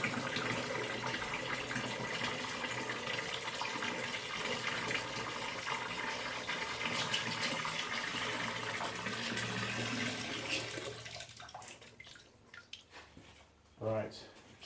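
Water gushes steadily into a bucket from a tap, a loud continuous pour that stops near the end, followed by a few clunks and a person speaking.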